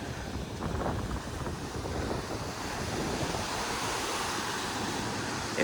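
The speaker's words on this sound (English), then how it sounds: "just thought I'd show everybody the beach." Waves surf onto a beach under steady gusts of wind buffeting the microphone, a continuous loud roar of breaking water and rumbling wind noise with no one speaking.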